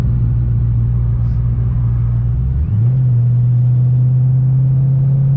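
A semi truck passes close by on the road, a loud steady low rumble whose pitch shifts midway as it goes past, with no talking.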